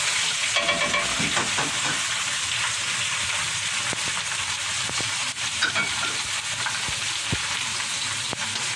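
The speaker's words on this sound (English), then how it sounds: "The thing you want to do is add the onion," Chopped onion frying with meat in a pot for beef stew, a steady close sizzle and crackle running throughout with small stirring knocks, no voices.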